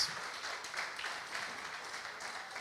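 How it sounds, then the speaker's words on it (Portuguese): Soft, distant applause from a church congregation during a sermon, a steady even patter with no voices over it. "Aplauda o Senhor aí"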